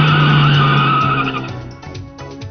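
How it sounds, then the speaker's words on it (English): A bright red car pulls up and slides into a parking spot, its tires skidding loudly with a sustained squeal and engine note that fades over a couple of seconds, with no talk. "You see this bright red car that pulls up in front of your office and slides into a parking spot."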